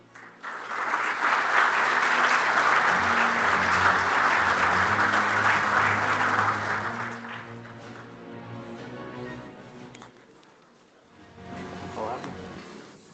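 An audience applauds at a safety meeting's awards as a presenter is called to the stage, a loud, full round of clapping that fades out, followed by a brief burst of clapping again.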